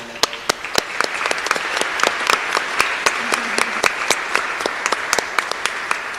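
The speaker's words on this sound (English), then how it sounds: "Please give them a round of applause." An audience at the Global Peace Song Awards applauds an award-winning music group, a dense, steady wash of many hands clapping with crisp individual claps standing out, moderately loud and sustained without talk.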